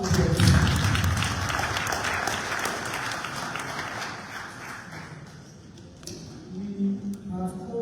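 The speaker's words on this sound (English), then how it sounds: "Shall we give him the round of applause?" An audience applauds the Deputy Minister of Defense at a Sierra Leone groundbreaking ceremony, with clapping loudest at the start and gradually thinning out over several seconds.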